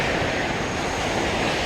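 Mi-8TB transport helicopter in the WARNO strategy game, a loud continuous engine and rotor roar with a dense, steady wash and no speech.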